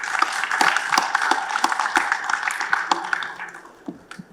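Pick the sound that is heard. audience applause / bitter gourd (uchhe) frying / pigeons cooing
audience applause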